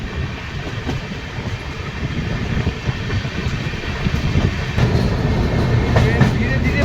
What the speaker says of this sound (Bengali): গাড়ি এবার ফারাক্কা ব্যারেজের দিকে এগিয়ে চলেছে